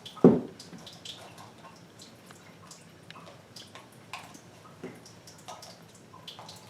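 Kangen water poured onto a floating tea bag, a soft splash at the start followed by faint, scattered drips and trickles, quiet and close with no talking.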